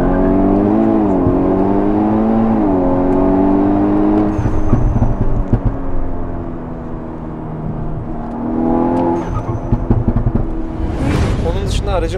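A VW Golf 6 R Stage 2+ with popcorn exhaust software revs hard under launch control, its engine note rising and climbing loudly in pitch, then easing off before surging again near the end, heard from inside with muffled voices.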